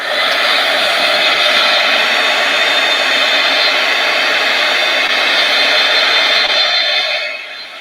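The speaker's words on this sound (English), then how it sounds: "I'm going to use my hair dryer." A hair dryer blows steadily at close range, a continuous loud whoosh with no talking, easing off at the very end.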